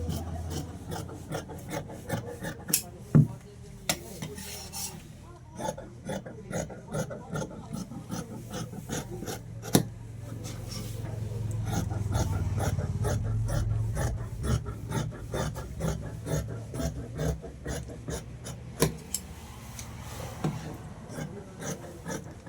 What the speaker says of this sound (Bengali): এরপরে পেছন পাল্লা কাটিং করব